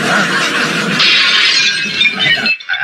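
A plate is smashed, producing a loud, sustained crash of shattering and scattering shards that ends abruptly with a brief tinkle.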